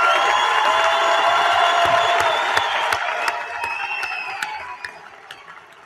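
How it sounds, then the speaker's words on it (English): A large commencement crowd claps, cheers and whoops for university graduates in a big hall, loud at first and then gradually fading, with sharp individual claps standing out. "Let's applaud the graduates of the College of Education and Health Professions."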